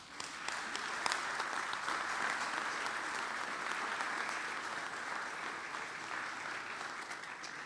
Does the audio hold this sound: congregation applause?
yes